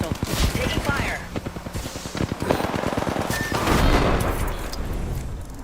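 Gunfire in the video game Apex Legends: rapid, loud automatic bursts with sharp repeated shots throughout, mixed with heavier booms and a voice speaking over the firing.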